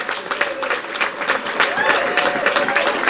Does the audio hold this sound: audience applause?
yes